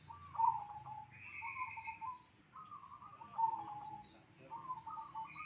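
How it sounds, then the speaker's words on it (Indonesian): A caged songbird sings repeated bright phrases, some held and some warbling, with short pauses between bursts, fairly close and clear over faint background hum. "Ini burungnya udah gacor, ini udah bunyi nih."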